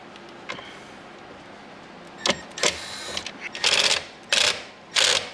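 Screws being backed out of the dash panel on a 2024 Jeep Wrangler, with sharp mechanical whirring bursts from a driver, several in succession and increasingly long near the end, close and fairly loud.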